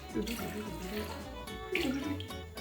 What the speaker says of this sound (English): For the first step, we are putting in some water.